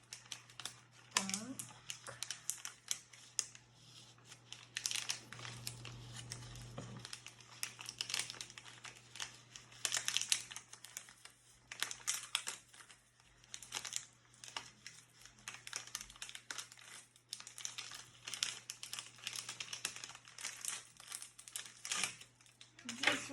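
Crinkly plastic packaging of small surprise packets being torn and opened up close, irregular crackling and rustling bursts, with a person speaking quietly at times.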